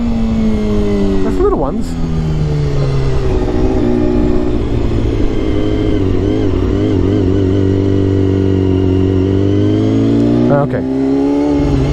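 A Honda CBR250RR MC22 with a four-cylinder 250 cc engine runs loud and close, its high-pitched revs rising and falling steadily during wheelie attempts. A rider speaks briefly over the engine.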